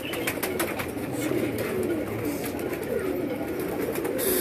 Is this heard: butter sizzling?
no